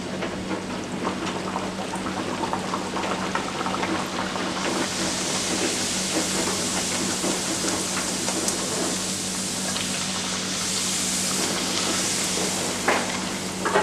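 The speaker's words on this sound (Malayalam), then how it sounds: "നമുക്ക് പൂരി ഫ്രൈ ചെയ്തെടുക്കാം." Beetroot poori deep-frying in hot oil, a steady close sizzle and hiss of bubbling oil that runs throughout, growing fuller and brighter partway through, with no talking.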